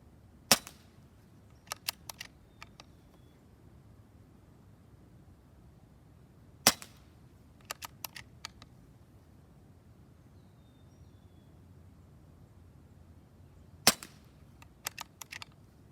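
A Benjamin Marauder Field & Target air rifle fitted with a Walther barrel fires three sharp, close shots several seconds apart. Each crack is followed by quieter clicks of the action being cycled, with a hushed outdoor background.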